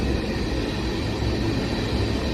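A freight train with a coal hopper in the consist rolls past, a steady broadband rumble and rush of wheels on rail at moderate distance with no pause.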